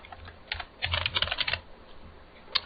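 Quick bursts of clicking keystrokes on a computer keyboard, a short cluster of close taps followed by a pause and one last isolated keypress, with no voices.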